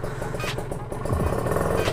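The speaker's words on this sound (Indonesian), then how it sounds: "kalau udah ganti knalpot, kering banget suaranya, garing" Kawasaki Ninja RR two-stroke motorcycle fitted with an aftermarket exhaust, running with a dry, crackly engine note heard close by for a couple of seconds, with no talking over it.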